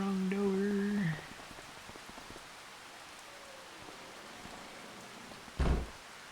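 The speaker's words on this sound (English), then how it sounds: "Let's go sell some silage in the rain." Rain in the farming video game Farming Simulator 25: a steady, soft hiss of falling rain after a brief tonal sound at the start, with a single dull thump near the end.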